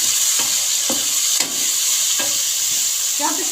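Chopped onion, tomatoes and spices frying in a pan for an arbi masala, a constant bright sizzle with a spoon scraping and stirring through it in several short, regular strokes.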